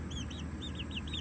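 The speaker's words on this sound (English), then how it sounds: "We have the other broody hens." Broody hens in a cattle-panel chicken coop give a series of short, high, repeated calls, about five or six in quick succession, moderately close over a low steady background hum.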